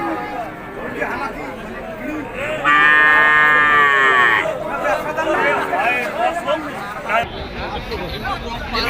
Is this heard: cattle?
yes